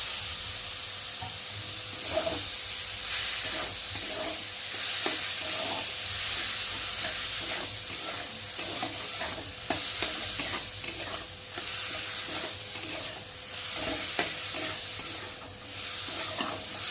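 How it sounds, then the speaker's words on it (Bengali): Boiled soybean fries in oil with tomato spice masala, a steady close sizzle and hiss under repeated scraping stir strokes in a regular rhythm, continuous for the whole stretch. "এখন সিদ্ধ করে রাখা সয়াবিনটাকে দিয়ে একটু ভালো করে কষিয়ে নেব"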